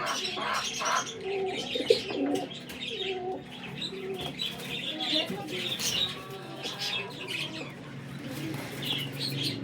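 Flying pigeons coo in low, repeated throaty calls, with chirps and a brief flutter of wings nearby; faint voices murmur in the background.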